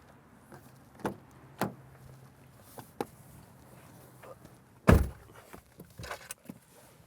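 A 2019 Toyota Tundra TRD Sport pickup with a 5.7-liter V8 has its cab door handled. Scattered clicks and soft knocks build to one heavy door thunk midway, followed by a few fainter rustles and taps inside the quiet cab.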